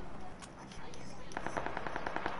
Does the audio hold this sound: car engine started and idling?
no